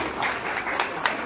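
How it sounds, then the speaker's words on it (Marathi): Applause from an audience gathered at a public speaking event, a dense wash of clapping filling the short moment without a pause. "आपण जरा जोरदार टाळ्या वाजवून स्वागत केलं पाहिजे"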